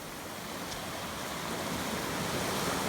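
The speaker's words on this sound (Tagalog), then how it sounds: "Lakas ng hampas ng alon." Strong ocean waves pound the shore at a beach in Salcedo, Eastern Samar, making a continuous roaring wash of surf that slowly builds in loudness, with no voices over it.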